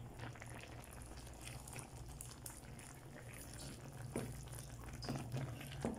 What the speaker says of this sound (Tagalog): Tingnan natin kumulo mga guys.